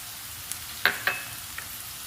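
Spices frying in oil for a beetroot fry, a soft steady sizzle with a couple of sharp pops or clinks near the middle.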